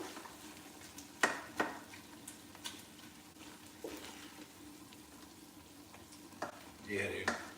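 Ground meat for spaghetti sauce sizzles quietly in a large pot while being stirred, with a low steady frying hiss and a few sharp scrapes and clanks of the spoon against the pot.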